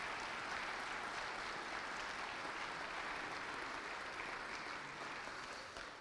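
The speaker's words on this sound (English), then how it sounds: "Round of applause for our sponsors." Applause for the sponsors at a church Christmas brass concert by the Greeley Philharmonic, a steady, fairly distant crowd clapping that holds evenly for the whole stretch and thins slightly at the end.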